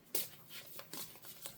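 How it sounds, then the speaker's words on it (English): Oracle cards being shuffled by hand, a short soft run of riffling and flicking bursts heard up close with no talk. "we are live shuffling everything today"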